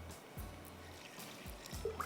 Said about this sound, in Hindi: थोड़ा सा मज़ीद जाएगा इस पे पानी